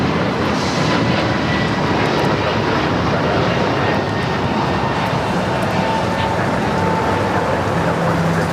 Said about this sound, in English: back-to-back 747-8 arrivals. Lufthansa, number 2 for arrival there on the north side